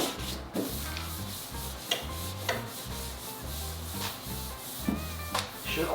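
Hand sanding of a Mustang GT body panel during paint prep, a steady rhythmic back-and-forth rasp repeating about once a second, close and fairly quiet.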